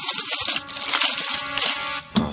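Silver coins spill and clink in a bright, loud cascade for an audio drama, jingling densely before a final few scattered clinks settle.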